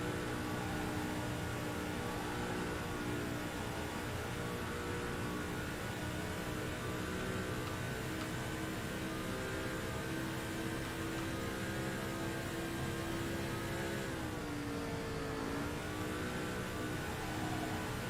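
Stock car engine in NASCAR 2005: Chase for the Cup on a timed lap, a steady droning engine tone held throughout with a brief dip and rise in pitch near the end, over constant broadband noise.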